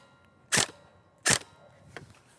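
A Tokyo Marui HK416D airsoft gun fires .28 ammunition through a chronograph, giving two sharp, loud cracks about a second apart and a fainter third shot, close by in a quiet room.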